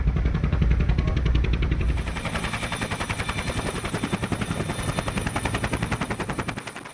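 A military helicopter flies close by, its rotor beating in a steady rapid chop over a loud engine rumble, continuous throughout with no talking.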